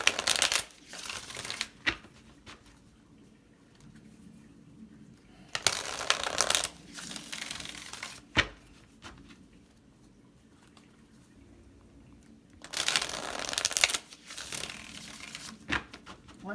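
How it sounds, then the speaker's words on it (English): Cards are riffled and shuffled in several brisk bursts of crisp flapping, separated by quiet pauses with occasional soft taps. "One more shuffle."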